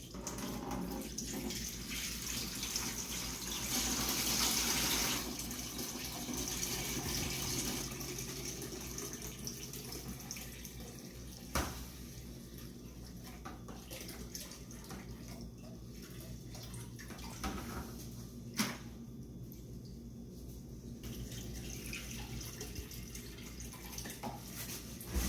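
Water runs from a tap in a steady, moderate rush, louder at first and then settling into a continuous flow with a couple of brief knocks.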